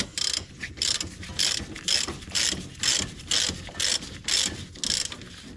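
A hand ratchet loosens a 14 mm bolt on a 1994 Acura Integra strut, giving about a dozen loud, close bursts of rapid clicking in a steady back-and-forth rhythm.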